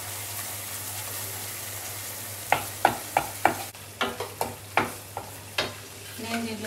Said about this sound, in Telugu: తర్వాత దీంట్లో కొంచెం జింజర్ గార్లిక్ పేస్ట్ వేసుకుంటాను